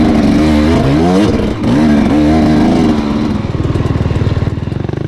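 Dirt bike engines at a hare scramble woods race, one close motorcycle revving loudly with rising and falling pitch through gear changes before settling into a rough, throbbing idle-like putter.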